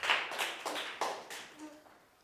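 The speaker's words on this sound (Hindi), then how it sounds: "तालियां बजाएं इनके लिए" A few people in a classroom lesson clap for a student, giving a short, quiet run of uneven claps that fades out within a couple of seconds.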